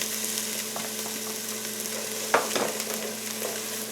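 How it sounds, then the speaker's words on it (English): Chopped red onion and a few button mushrooms sauté in a pan, a steady close sizzle with a sharp clatter of stirring midway and softer scrapes after. "I'm going to saute them down first before I add my spinach in there"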